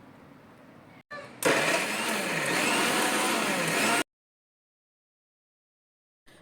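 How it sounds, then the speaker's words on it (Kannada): A kitchen mixer grinder blends coriander into a spice paste for chicken and ghee rice, whirring loudly and steadily for about three seconds before stopping abruptly, with a quieter hum just before it. "ಕೊರಿಯಂಡರ್ನ ಹಾಕಿ ಗ್ರೈಂಡ್ ಮಾಡ್ಕೋಬೇಕು"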